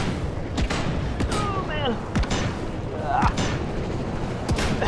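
Gunfire in the VR shooter Switchback VR: sharp shots spaced apart with delays between them over a busy game soundtrack, with someone talking briefly.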